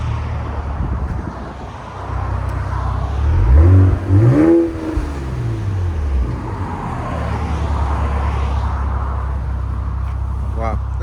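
A RAM 1500 pickup with the 3.0L Hurricane inline-six and muffler-deleted exhaust revs and drones fairly quietly, with a brief rise and fall in pitch midway and a steady rumble throughout.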